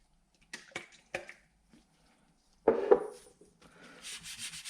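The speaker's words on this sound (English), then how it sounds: "with some wipe on poly, I'm going to apply it with a scouring pad" A scouring pad rubs wipe-on poly finish into the wood of a boat interior, making a few short close scrubbing strokes, then a louder burst of rubbing and a softer, steady scrub at the end.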